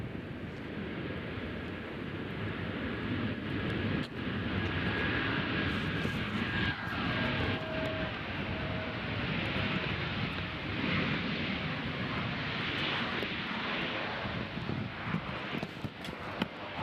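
An airliner landing at Nashville International Airport, a continuous loud jet roar with wind rumble that holds steady throughout, heard from outside at a distance.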